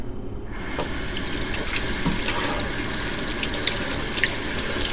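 Warm water runs from a tap at a sink while a hummingbird feeder is being cleaned, starting abruptly and then gushing steadily and loudly for several seconds without speech.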